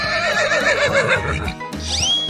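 A horse in a 3D animal slide game gives a loud, quavering neigh lasting over a second, followed by a short rising tone.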